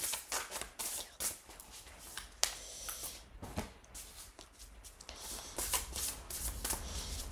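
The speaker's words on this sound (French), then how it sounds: "Pendant que je bats les cartes, faites votre choix." A deck of oracle cards being shuffled by hand, close and quiet, with repeated riffling and sliding bursts running continuously and no speech over them.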